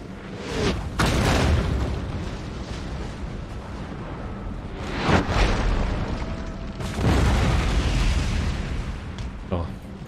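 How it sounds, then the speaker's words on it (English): Cannons fire in a Napoleonic-era battle in Empire: Total War, with deep booming blasts rolling in several waves, some close and heavy, others overlapping into a sustained rumble. "Seeing those cannons fire right in your face."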